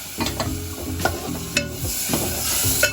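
Roasted sambar masala stirred in a hot pan, with several distinct scraping strokes of the spoon over a crisp sizzle, close and fairly loud.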